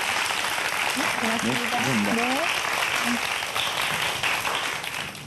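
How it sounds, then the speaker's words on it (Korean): Loud applause from a lecture audience at a televised science talk, thanking the speaker, while voices speak over the clapping before it thins out toward the end. "오늘 재밌는 강연해 주신 이광렬 박사님께 큰 박수 부탁드리겠습니다"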